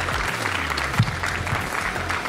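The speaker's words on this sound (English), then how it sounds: "a big round of applause" A crowd claps steadily in sustained applause, a dense even patter of many hands.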